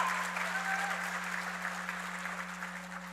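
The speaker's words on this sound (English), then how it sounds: "please give her a round of applause" A graduation audience applauds a teacher with steady, even clapping that stays at a faint level throughout, with a low electrical hum running underneath.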